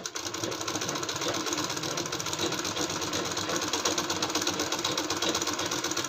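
An electric sewing machine runs steadily for several seconds, stitching a folded palazzo waistband with elastic inside, its rapid needle rattle and motor whirr continuous and close.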